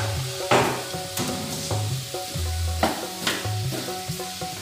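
Cut medium tomatoes fry with chicken for a coconut chicken thoran stir fry, a loud, steady close sizzle in the pan with rhythmic scraping stirs and a few clanks of the spatula, no talk.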